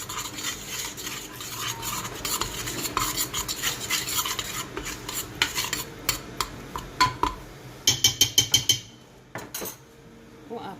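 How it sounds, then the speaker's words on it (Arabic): A spoon or utensil stirs chicken rfissa in a metal pot, with steady scraping and clinking against the sides and a low sizzle beneath. Near the end the stirring turns into a few sharper, louder taps. "Je mélange le tout."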